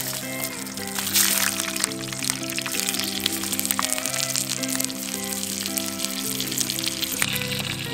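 Pepper frying in oil on a hot shovel for a Mexican burger cooked outdoors, giving a steady crackling sizzle with scattered sharp pops over a constant background hum, no talk.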